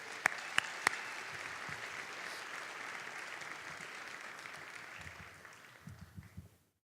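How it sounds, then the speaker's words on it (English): An audience at an education awards event applauds its sponsors in a broad, steady round of clapping with a few sharp whoops early on, fading out and ending in a handful of closer claps. "Let's give them all a big round of applause."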